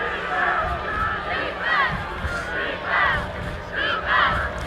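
The Cortland Red Dragon home crowd at the 2014 Cortaca Jug football game roars to urge on the defense, with shouts and cheers rising and falling in repeated waves over steady stadium murmur.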